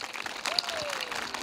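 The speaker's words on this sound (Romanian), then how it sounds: "să-i aplaudăm" Applause for a school team at a local spring event in Bucovina, a brief burst of steady clapping from an audience in a hall, fairly loud.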